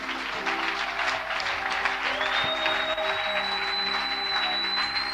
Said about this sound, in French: Est-ce que nous pouvons très bien acclamer?